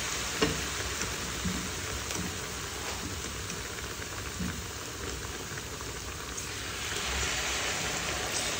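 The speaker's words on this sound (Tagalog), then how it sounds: "pagka-coated niyan, edi syempre, ihulog nyo dyan sa mantika" Batter-coated banana slices bubble and crackle steadily in hot oil, a dense, continuous frying hiss with scattered pops, fairly close and moderately loud, with no one talking.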